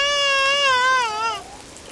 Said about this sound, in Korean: 쌍둥이들이 빗소리에 놀라 보채기 시작합니다